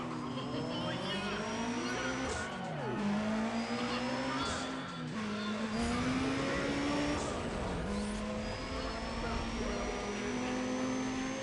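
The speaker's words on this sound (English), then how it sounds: "Will you listen to this engine?" A Honda race car engine in Need for Speed ProStreet revs and holds a strained high drone with rising and falling pitch sweeps, loud and continuous, with faint voices in the background.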